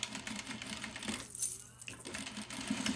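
A home sewing machine back stitching on a simple skirt, a close, steady mechanical whir with a short pause and small clicks as the stitch direction changes, then the running resumes.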